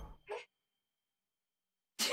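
A single short sneeze, close and fairly quiet, follows a brief breathy sound, then a pause of near silence before another abrupt burst at the end.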